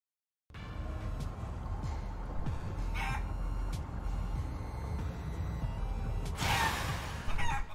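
In the video game Guacamelee 2, a chicken clucks amid loud, busy game sound, with a few sharp bursts along the way.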